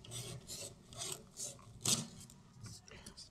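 Piano hammers being filed by hand with fine 600-grit sandpaper, a close, steady series of dry rasping strokes in an uneven rhythm, one louder stroke near the middle.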